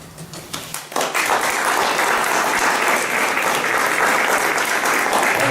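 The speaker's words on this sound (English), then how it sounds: "Let's give these fine folks a rounding of applause here." An audience at a community climate talk bursts into applause after a few scattered early claps, then keeps up loud, sustained clapping that fills the room for several seconds.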